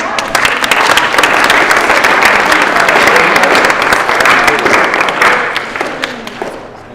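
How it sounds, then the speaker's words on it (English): An audience claps for students presenting big ideas for their city, a dense, loud round of applause that holds steady for several seconds before tapering off, with faint voices mixed in. "Give them a round of applause."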